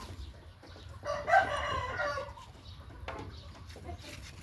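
A breeding rooster, a black Mahanakorn Saenkol fighting cock, crows once, fairly loud and close, with faint clucking and farmyard background around it.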